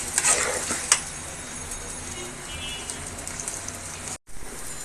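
Rice fries in a pan for pulao with a continuous crackling sizzle, a few sharp scrapes and clinks of stirring at the start, then a steady hiss with a brief cut near the end.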